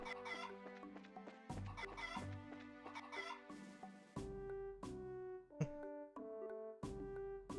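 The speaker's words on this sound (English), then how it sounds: "Chicken! Chicken!" Chickens cluck in choppy bursts over a melodic, bouncy game music track, the fowl calls sitting prominently in the mix without any voices.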